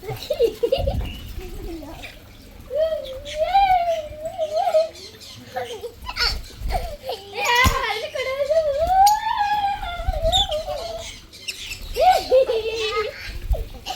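Birds chirp and tweet repeatedly throughout an aviary, mixed with children's excited voices and chatter close by.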